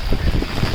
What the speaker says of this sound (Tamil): காற்று பயங்கரமாக இருக்குதுனால